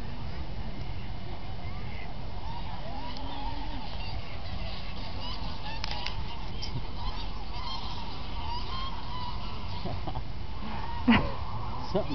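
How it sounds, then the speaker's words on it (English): A flock of ducks calls at a lake, a steady chorus of honking and quacking throughout, with a brief louder burst near the end. "Here's our ducks."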